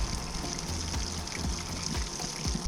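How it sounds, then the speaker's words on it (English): A pump flushes water through a Rinnai tankless water heater during descaling, giving a steady wash of pouring, trickling water with a faint rhythmic pulse underneath. "We're flushing the pump out."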